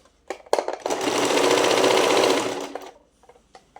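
A sewing machine runs a steady, fast stitching burst for about two seconds along a marked line on fabric, close and loud, with brief handling clicks before and after.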